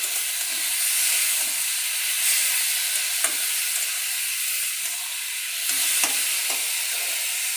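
Water goes into a hot pan of Bengali rohu fish curry with ridge gourd, setting off a loud, steady hiss and steamy sizzle with a few faint clinks, close and continuous without voices.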